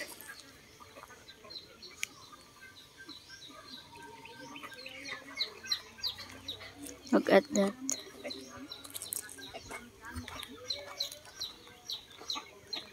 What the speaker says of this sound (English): The hen loves that one.